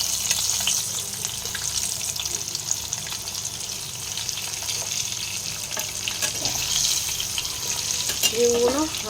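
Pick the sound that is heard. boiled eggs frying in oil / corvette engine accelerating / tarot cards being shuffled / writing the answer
boiled eggs frying in oil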